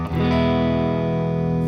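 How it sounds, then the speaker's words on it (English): An electric guitar runs through a Voodoo Labs Sparkle Drive mod overdrive pedal, a Tube Screamer-style drive: one sustained, mildly overdriven chord rings out loud and steady after a quick attack. "if you want that kind of Tube Screamer distortion, or just a tiny bit of it, this is the way to go"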